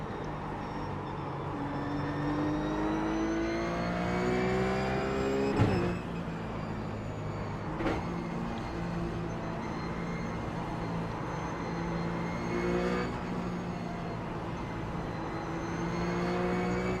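A RUF race car engine in iRacing at Suzuka Circuit East holds a steady high-revving drone, with gear shifts marked by sudden pitch drops and rising harmonics climbing again, loud and continuous.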